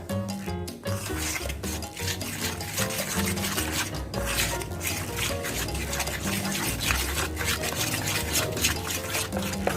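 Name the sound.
mixing frying batter with ice-cold water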